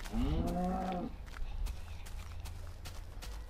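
A cow in Minecraft lets out one loud, close moo lasting about a second, followed by low game ambience and faint clicks.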